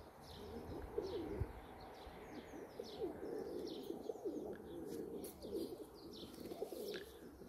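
Pigeons in a loft give soft, low, repeated cooing, close but quiet, with faint chirps and light rustling around them.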